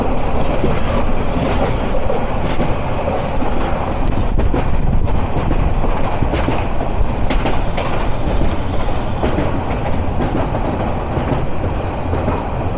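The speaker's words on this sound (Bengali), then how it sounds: "এখন আমাদের সাথে ডাবল লাইনে ক্রসিং হবে জয়দেবপুর কমিউটারের সাথে।" Joydebpur commuter train crossing on a double line near Banani station, a loud continuous roar of rolling wheels and rattling carriages with faint clatter and a brief high squeal, heard close without talk.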